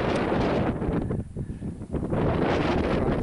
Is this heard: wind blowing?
yes